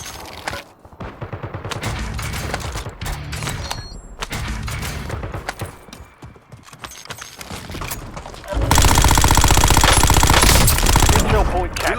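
Rapid automatic gunfire rattles in Call of Duty Warzone battle royale, with short bursts early on, then a loud sustained volley near the end alongside game voice callouts.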